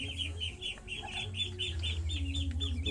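Chickens cluck repeatedly and steadily close by while being fed rice bran feed on a farm, with continuous overlapping calls and no talking.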